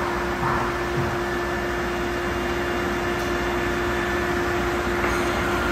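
An Atotech SD2732 spin dryer with a 2-horsepower motor runs with a steady, even mechanical hum and a constant tonal whine, unbroken throughout.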